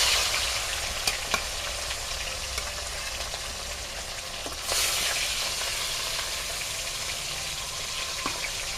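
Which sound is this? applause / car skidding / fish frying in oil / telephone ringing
fish frying in oil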